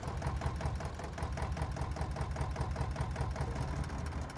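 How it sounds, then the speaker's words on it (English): A vehicle engine idles in Farming Simulator 22, giving a steady, loud mechanical hum with an even, rapid pulsing rhythm that holds unchanged throughout, with no talk over it. "And turn the engine off."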